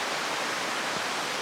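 A river flows beside a hiking trail on the Appalachian Trail as a steady, broadband rush of water. It is faint and continuous, with no voices.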